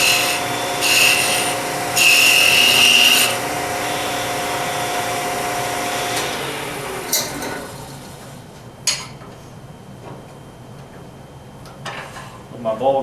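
A bowl gouge shaves wood on a lathe while shaping a turned ring, producing scraping, hissing cuts in uneven bursts over a steady motor hum that fade to lighter scratches and taps.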